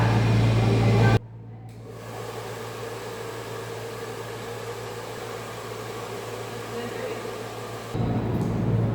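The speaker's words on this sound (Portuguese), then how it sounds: "A gente vai ligar o secador e a gente vai ver o que vai acontecer" A hair dryer blows a steady, fairly loud stream of air between two hanging balloons, a continuous broadband rush with a low hum that keeps an even level from start to finish.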